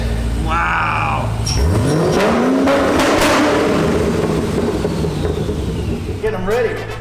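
A loud car engine revs hard and roars close by, with excited voices talking and exclaiming around it.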